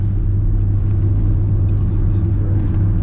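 A 2020 BMW X3 M40i accelerating hard from a stop in a 0-60 run, a loud, deep, steady engine roar heard from inside the cabin.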